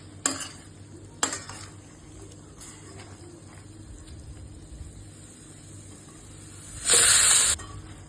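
A spoon stirs chicken curry in a pot with a few sharp scrapes and clinks, soft background hiss, then a loud burst of sizzling near the end; no speech.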